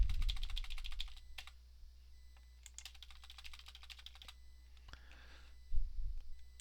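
Bursts of rapid computer keyboard typing and clicks while song verses are edited in OpenLP worship software, two dense runs separated by quieter gaps, close and clear, with a soft thump near the end.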